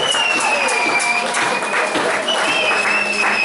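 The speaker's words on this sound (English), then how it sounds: "Come on, let's give them all a round of applause." Applause from a crowd at a tribute night at Hootananny, a loud, sustained wash of clapping with a voice speaking through it and a high tone running across.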